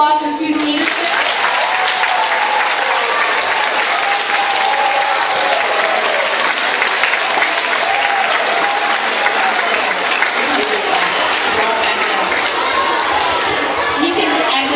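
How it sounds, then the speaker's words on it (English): Sustained, loud applause from a school audience of boys and girls honoring student leadership, dense steady clapping with crowd noise and some cheering throughout. "one last round of applause for student leadership"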